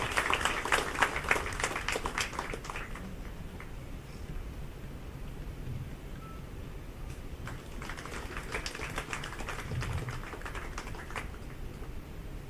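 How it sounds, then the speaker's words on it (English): An audience at a commemorative event claps, a burst of scattered hand claps that thins out midway, then picks up again into a second round of lighter, uneven clapping. "A big round of applause."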